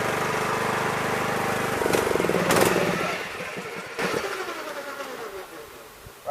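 A racing lawn mower engine runs with a steady mid-pitched drone, revs up briefly, then cuts out and stalls, leaving near silence before a short sound at the very end.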